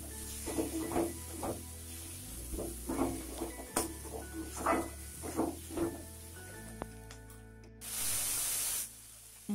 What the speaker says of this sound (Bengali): গরম মশলা গুঁড়ো মশলাগুলোকে এবার আমি ভালো করে কষে নেব